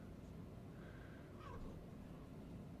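A house cat meows once, faintly and briefly, inside a home, half buried under steady low background noise, with no talking.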